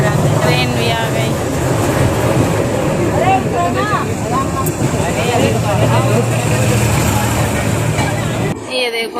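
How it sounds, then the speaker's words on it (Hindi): A train pulls into Jaipur station in heavy summer heat, with a steady loud rumble of rolling carriages that runs throughout under constant crowd chatter and nearby voices. "ट्रेन भी आ गई।"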